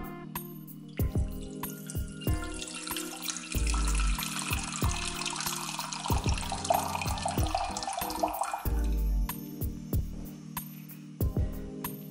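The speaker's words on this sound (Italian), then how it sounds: "versiamo l'acqua" Water runs from a tap into a cooking pot on the stove, a steady close splashing stream lasting several seconds amid kitchen clatter, with no talk.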